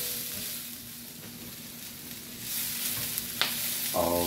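Vegetables for loaded baked potatoes sauté in a pan, giving a steady soft sizzle close to the microphone, with a brief stir or clatter near the end and no talking.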